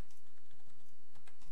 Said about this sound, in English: You click it here and you start typing.